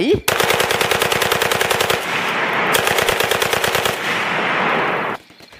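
Loud automatic gunfire sound effect in an audio drama, long rapid bursts of machine-gun shots in quick succession, close and dominant, ending abruptly after about five seconds.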